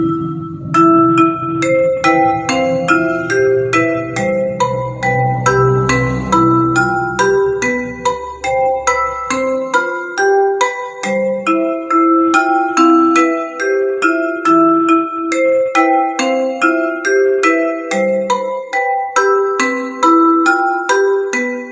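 Bright metallic gamelan keys play a catrik pattern in a steady, repeating interlocking rhythm, with a low gong-like drone under the first half before the bronze strokes continue alone, close and loud.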